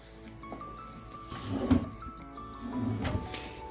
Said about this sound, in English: Let's see what's in these drawers here.